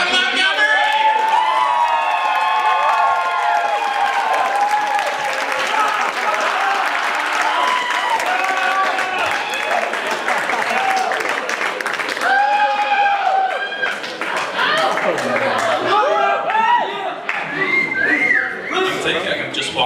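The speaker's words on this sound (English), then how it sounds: "So you gotta put your hands together." Audience at a coffee house performance night breaking into sustained loud applause with whistles and cheering, the clapping continuing for about twenty seconds.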